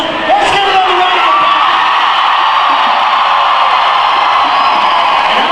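A crowd at a school pep rally with a pro wrestling show cheers and whoops in a loud, sustained roar of many voices.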